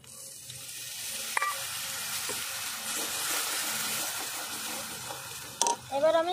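Chili-water poured over hot fried spices in a pan for Bengali bori jhal bursts into loud, steady sizzling and hissing, with stirring scrapes and a couple of sharp clinks near the end.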